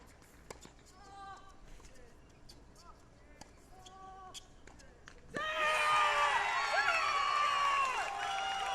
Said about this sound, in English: And the crowd gets pumped up